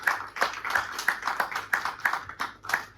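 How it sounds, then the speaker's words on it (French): Rhythmic clapping from a church congregation at a sermon, about ten steady claps, moderately loud and close, without speech. "Let's put our hands together for the past generations."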